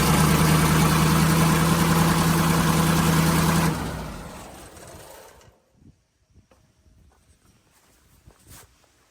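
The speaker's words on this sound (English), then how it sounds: "I'm going to start this motor, and hopefully I can hold the RPMs to match 480 volts" An engine-driven generator motor on a breezy Nebraska farm runs loud and steady with a throbbing low drone, then cuts off abruptly and winds down, leaving quiet outdoor ambience with faint knocks.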